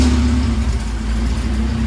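K24 engine in a Honda Civic EG running after starting, a loud, steady mid-pitched engine drone with low rumble and a constant hum throughout.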